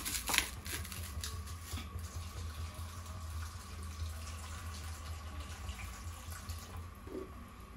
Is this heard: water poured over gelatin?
yes